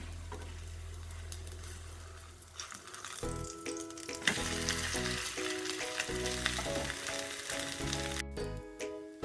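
Parappa appam, a special dosa, fries on a pan after a teaspoon of oil is added, giving a steady close sizzle with crackles and some background tones.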